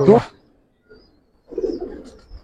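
Giribaz pigeons in a loft give a short loud burst followed by a faint pause and then a low, soft cooing murmur near the end, with a voice briefly present.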